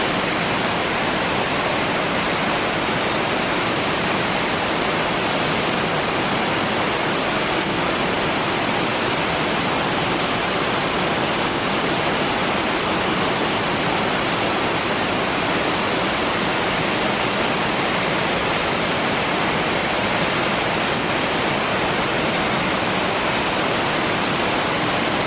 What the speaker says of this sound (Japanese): 五色滝。